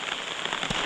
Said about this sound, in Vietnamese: Hôm nay thì trời mưa tầm tã luôn.